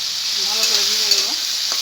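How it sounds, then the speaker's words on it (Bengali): Potato pieces frying in a pan with salt and turmeric, a steady close sizzle with light stirring scrapes over about two seconds, no speech. "ভালো করে ভেজে নেব।"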